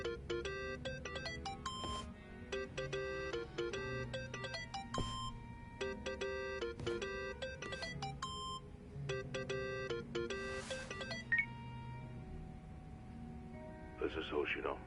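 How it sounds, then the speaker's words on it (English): A phone ringtone plays a repeating electronic melody in short bursts separated by brief pauses. It sounds quiet and slightly distant, with a voice speaking near the end. "Think that's your phone, man."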